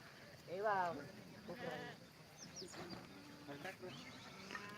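Goats of the Balumama procession bleat in short wavering calls at the Balumama temple in Belmachi, a few nearby voices rising over a steady outdoor hum, with faint chatter underneath.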